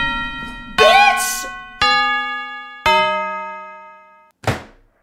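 Loud doorbell in the horror video game Chilla's Art: The Kidnap, three ringing bell strikes spaced about a second apart, each ringing out and slowly decaying, preceded by a chime and followed by a brief thud.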